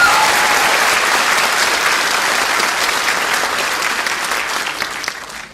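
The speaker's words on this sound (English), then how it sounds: "let's give them both another big round of applause" An audience at a high school graduation ceremony applauds award recipients, sustained dense clapping from a large crowd that fades slightly toward the end.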